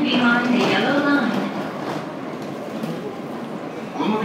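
A rapid train rolls into Akihabara station with a broad, steady rumble that eases off partway through, while a voice is heard over the station noise.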